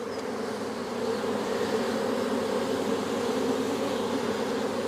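Honey bees from a double-brood hive, with many drones on the frames, buzz during a hive inspection: a steady, dense, close hum that holds for the whole stretch with no talking.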